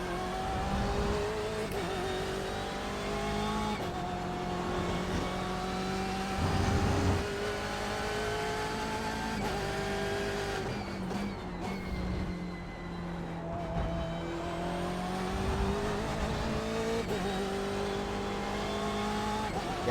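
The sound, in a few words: race car engine in iRacing video game, IMSA at Road America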